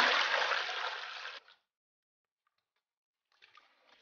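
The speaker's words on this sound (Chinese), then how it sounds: "我们直接把玉米淀粉和水混在一起就可以了" Corn starch and water pouring and mixing into a non-Newtonian fluid, a loud steady rush of liquid for about a second and a half, then silence, then a few faint wet sloshes at the end.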